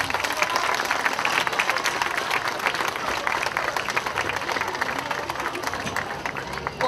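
Steady audience applause at an open-air school concert in Jagodina, a dense outdoor crowd clapping continuously at even volume throughout.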